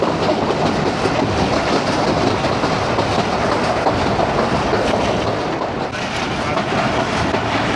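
A passenger train on the Lahore to Narowal line runs along rail tracks in rural Punjab, a loud continuous rumble with rhythmic clickety-clack of wheels over rail joints, steady and close throughout.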